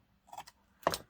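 Two short crisp snips of scissors trimming a small bit of paper during craft work, close and quiet with a pause between cuts and no talking.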